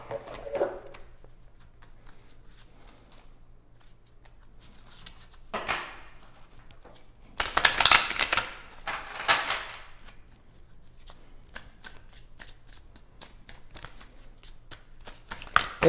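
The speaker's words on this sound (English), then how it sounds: "I'll just pull a quick ancient animal wisdom oracle card." Ancient animal wisdom oracle cards are shuffled and one is pulled, making soft papery riffles and a louder flurry of card slaps midway, close up against a quiet background.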